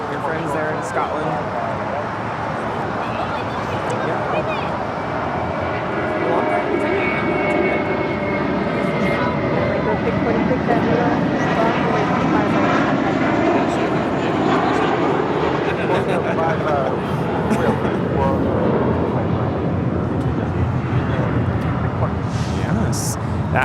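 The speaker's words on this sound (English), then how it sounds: "That was JetBlue Airways Flight 1268 departing to Windsor Locks on an A320" A JetBlue Airways Airbus A320 takes off from LAX, its engine roar loud and sustained throughout, swelling slightly as it climbs, with faint voices in the background.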